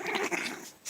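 Close, short bursts of growling from playful puppies, rough and throaty with brief pauses between snarls, fairly quiet and with no talking.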